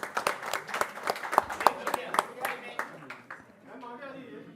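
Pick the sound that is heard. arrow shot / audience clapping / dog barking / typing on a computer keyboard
audience clapping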